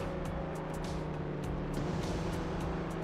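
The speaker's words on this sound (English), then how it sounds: "You guys ever hear an engine that sounds so good you wouldn't want it turbocharged?" Engine of a racing car in the Hot Wheels World Race video game, a steady low droning rumble that holds at constant loudness throughout, without any speech.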